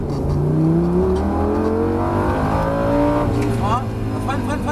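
A car accelerates on a track, its engine rising in pitch through the gears, loud and close under the steady drone of the cabin, with faint voices alongside.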